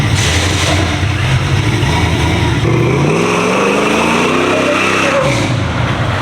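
A 2024 Chevy truck with an aftermarket cam revs nearby, its loud engine note climbing and falling in pitch across repeated throttle blips over a choppy idle.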